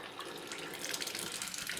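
Tap water flows steadily through a tankless water heater unit, a faint, even hiss and rush of running water with no voices.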